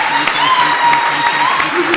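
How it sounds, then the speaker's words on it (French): Church congregation at an evangelical service applauding and cheering, a steady dense wash of clapping with crowd voices and music mixed in throughout. "Est-ce que nous pouvons acclamer le Saint-Esprit qui est au milieu de"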